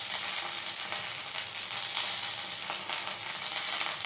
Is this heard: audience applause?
no